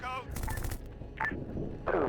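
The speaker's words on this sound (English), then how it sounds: "I still hear gunshots in the compound." Gunfire in an Arma 3 battle at a defended compound, several sharp bursts of shots cracking at mid distance among background game noise.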